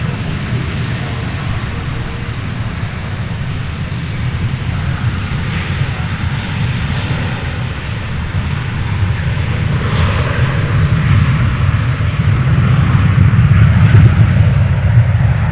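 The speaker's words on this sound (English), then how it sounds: "It looks like we're in for another rush here of planes getting ready to take off." Airplanes at Dallas/Fort Worth airport prepare for takeoff, a loud, broad engine roar rumbling steadily for several seconds and slowly building in strength toward the end, with no talking.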